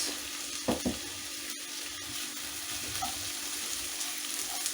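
Carrots and pepper frying in a pan, a steady soft sizzle running throughout with a couple of brief louder stirring clatters near the start.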